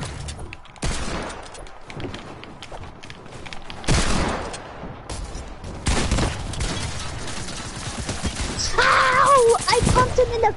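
Gunfire in a video game, shotgun-style blasts and bursts of shooting scattered through a busy, noisy firefight, with a few louder impacts standing out and someone talking over much of it.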